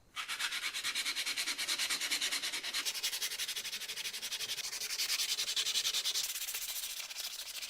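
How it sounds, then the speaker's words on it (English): Steady, continuous sanding on the wooden handle of a 110-year-old hand saw, a dense rasping rub that runs without pause at close range, with no talking. "I'm going to get back to the sanding."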